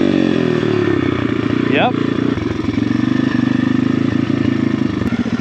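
A dirt bike engine runs on a trail, a loud, continuous buzzing drone that dips and then climbs again with throttle changes, close to the microphone and dominating throughout, with a brief spoken word from a rider.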